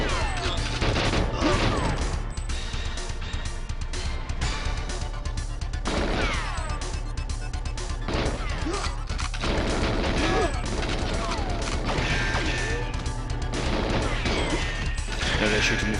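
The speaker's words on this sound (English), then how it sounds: "They're shooting me from behind" Enemy gunfire in GoldenEye 007 on the N64, busy crashing shots and rattling volleys over continuous game music and effects, dense and loud throughout with a voice talking occasionally.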